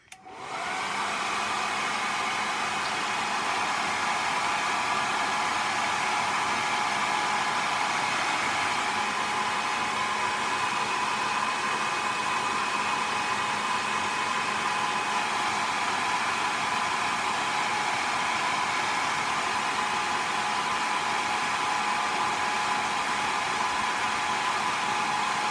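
A hair dryer blows steadily over wet watercolour paint on paper, a loud continuous whooshing hum that starts abruptly and holds unchanged for the whole stretch, with no voices.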